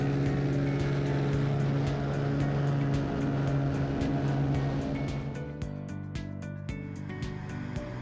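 A Cessna 182 floatplane's engine with a tuned exhaust, a steady, loud drone with a deep throbbing exhaust note, running continuously and shifting slightly in pitch partway through.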